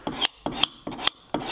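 A knife blade scrapes across wooden deck planks of a 1/65 model ship in four even, rasping strokes, each one building to a sharp end with brief pauses in between.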